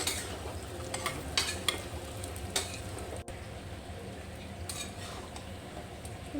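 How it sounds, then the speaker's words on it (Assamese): Meat frying in a pan gives a close, steady sizzle, with repeated scraping and clinks from a utensil stirring against the metal. No one talks over it. "এইখিনি অকণমান ৰঙা হোৱালৈ ভাজি থাকিব"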